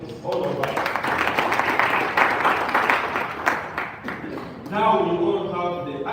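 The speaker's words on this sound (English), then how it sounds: "Now, can we clap for ourselves?" An audience at a live wellness session claps together in a dense burst lasting about four seconds, then a voice takes over.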